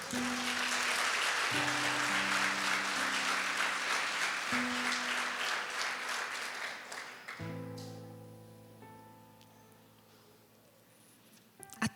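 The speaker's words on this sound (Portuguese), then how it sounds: "Você pode aplaudir o Senhor por isso?" A church congregation applauds, with dense clapping for about seven seconds that fades out, while sustained keyboard-like tones play beneath and carry on alone afterward, all fairly quiet.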